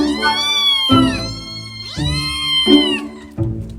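Several cats meowing in quick succession, overlapping loud, close, drawn-out tonal cries with rising and falling pitch, one after another with no pauses of silence.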